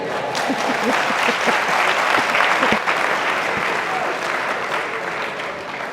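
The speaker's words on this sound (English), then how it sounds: "I think I deserve a round of applause" Audience applause after a talk on the future of work, a dense, steady wash of clapping from a crowd, lasting throughout with a brief voice or two mixed in.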